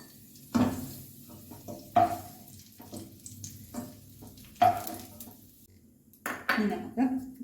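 Fried black raisins are scooped out of a pan while making sesame payasam, heard as close metal clinks and scrapes of a spoon against the pan in several separate strikes, with faint kitchen background.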